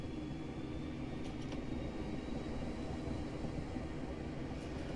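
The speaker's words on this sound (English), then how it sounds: "the train left without me again" A Southeastern Class 465 commuter train in a train simulator game pulls away, a steady low rumble of rolling stock that holds at an even level throughout, with no voices.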